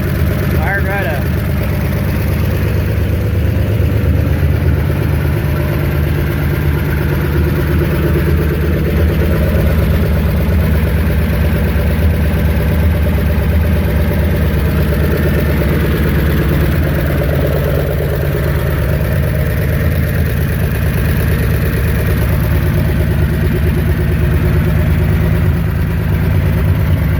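A 1959 Chevrolet Bel Air engine idling loud and steady just after starting, a continuous low rumble with little change throughout, and no voices over it.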